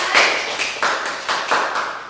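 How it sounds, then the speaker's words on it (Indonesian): A school class claps together in a few rhythmic bursts, close and fairly loud, fading after each round. "Boleh tepuk tangan."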